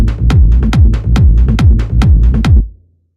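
Hardgroove techno low end made in Ableton Live, a loud, punchy bass pattern of repeated pulsing hits in a steady rhythm for about two and a half seconds before stopping abruptly, with no voice.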